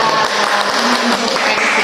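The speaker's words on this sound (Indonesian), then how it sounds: "Cuma tepuk tangan dulu lah buat teman-teman kita." Applause for friends on a podcast, a steady wash of clapping from a small group, continuous and fairly close throughout.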